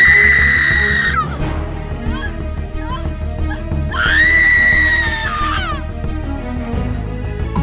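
A woman's long, piercing screams rise and break off in two drawn-out bursts, loud and close over a busy, dramatic backdrop with rumbling low tones.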